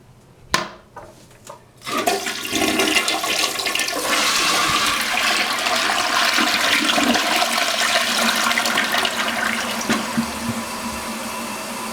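A toilet flushes with a Korky 528MP or Fluidmaster 400A fill valve, the water flow turned down as low as possible: a few sharp clunks, then a sudden loud rush that settles into a steady hissing refill running on alone.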